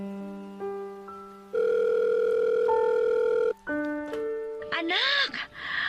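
Electronic phone tones ring out for an incoming call, a series of steady pitched beeps and a sustained tone, loud and close, followed by a short burst of voice-like sound at the end.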